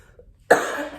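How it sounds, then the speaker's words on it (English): A single sharp cough bursts out close by after a near-silent moment, trailing into a rough, breathy tail. "Now I'm coughing."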